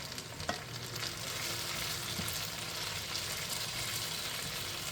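Scallions frying in a hot pan with pork and ginger, a steady loud sizzle running the whole time with a brief clatter near the start.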